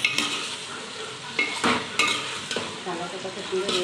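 Potatoes stirred while frying in a home kitchen pan, a spoon scraping and knocking against the metal in several strokes over a steady sizzle, close by.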